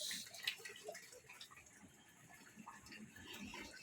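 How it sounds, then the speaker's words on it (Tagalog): Water drains from the hose of a TCL TWA 95 washing machine, a faint, irregular trickling and splashing with occasional drips, fairly quiet and alone. "So dito lumalabas guys yung tubig. May, may hose lang siya dyan."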